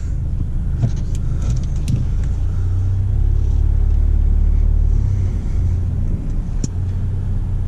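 A 2017 Ford Focus RS makes a low, steady engine rumble with road noise as it turns around and drives off, heard from inside the cabin.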